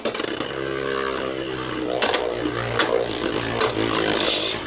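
A Beyblade Burst spinning top from the B-57 Triple Booster Set scrapes as it spins, making a steady buzzing, grinding whine with occasional clicks and knocks, close and fairly loud with no talk.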